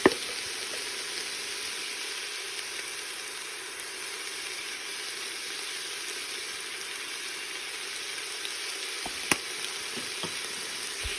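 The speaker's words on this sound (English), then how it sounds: "I'm just going to give it a nice stir" Homemade vegetable soup seasoned with basil and oregano is stirred in a pot, giving a steady, faint sizzling hiss throughout, with a couple of brief clinks of a utensil against the pot near the end.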